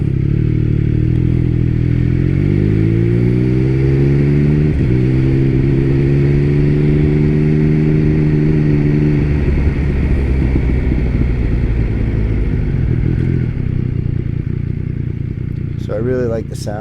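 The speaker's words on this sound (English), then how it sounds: "As I'm downshifting and slowing for the next light, you might hear a little of that triple burble." A three-cylinder motorcycle fitted with an SC exhaust muffler burbles while downshifting and slowing for a light, engine tones stepping up and down through gear changes, then settling to a rough low rumble with wind noise.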